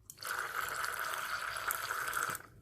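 A $5 mini washing machine whirs with a steady mid-pitched hum while water sloshes and churns inside, starting and stopping abruptly after a couple of seconds.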